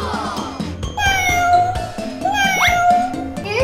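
A cat meows several times in drawn-out, rising and falling cries, loud and close over a busy background.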